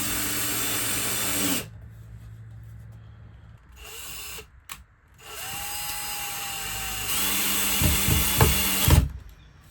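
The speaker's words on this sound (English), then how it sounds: "Drill 2 holes in the bottom of the van, one for the air intake and one for the exhaust" A power drill bores holes through the floor of a van in several bursts of high whirring separated by pauses, with short knocks and clunks between runs and no talking.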